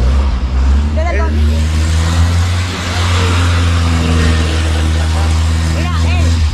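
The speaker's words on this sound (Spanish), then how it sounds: "está acelerando para que veas que no tira humo" The engine of a 2015 car revs and holds a loud, close mechanical drone, while voices talk over it.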